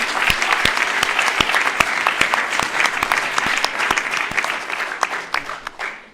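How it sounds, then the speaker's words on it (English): An audience at a European symposium applauding the HEC administration, a burst of loud, crisp, uneven clapping from a modest crowd that thins and fades out toward the end. "please, a big hand of applause to the administration of HEC"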